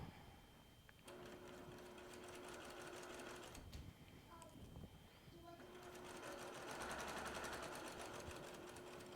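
A sewing machine stitches a log cabin quilt block in short runs, its rapid mechanical whir starting, pausing with a few clicks, then running again steadily at close range.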